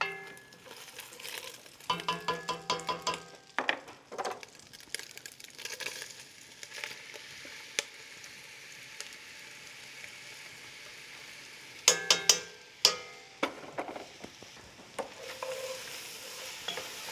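Onions frying with bacon in a pot to caramelize for a country onion soup in Le Marche style, a soft steady sizzle punctuated by bursts of spoon stirring and scraping, close and without speech.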